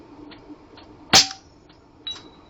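An air rifle pellet from an Airmax Krait X strikes a steel target, giving one sharp, bright metallic smack, with a few faint softer ticks around it.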